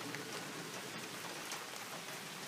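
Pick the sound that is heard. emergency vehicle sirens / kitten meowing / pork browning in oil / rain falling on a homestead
rain falling on a homestead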